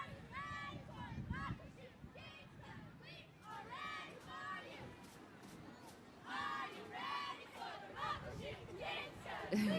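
Crowd of voices cheering and chanting from a tribal school group marching at the 2019 Daffodil Festival Grand Floral Parade, loud and continuous with surges of shouting over the street crowd's murmur.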